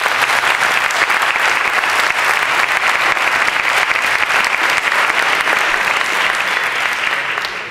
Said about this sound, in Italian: Per cui facciamo loro un applauso così.